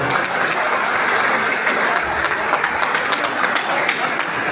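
Sustained audience applause at a Gujarati folk music dayro in Leicester, dense steady clapping from a large crowd filling the whole stretch without a break.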